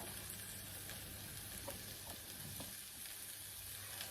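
Dolma filling sizzles steadily in a hot pan, a loud continuous frying hiss with faint stirring scrapes and no voices.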